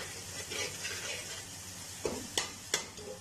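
Ginger-garlic paste frying in a pan for Kashmiri chicken masala, a steady close sizzle with stirring, then three sharp spoon scrapes near the end.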